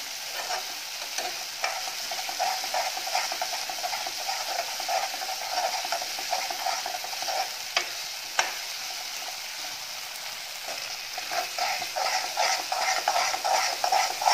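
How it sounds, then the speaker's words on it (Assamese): Continuous close sizzle of a bhut jolokia chili paste frying in a pan, with soft, frequent scraping as it is stirred and mixed, no voices. "এতিয়া অকণমান ভাজিব লাগিব মিক্স কৰি পেলাই"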